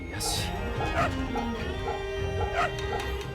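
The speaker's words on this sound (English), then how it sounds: "And another dog." Dogs in the video game Fate/Samurai Remnant give short yips and bow-wow barks at intervals over a sustained game music and ambience bed, fairly close and clear.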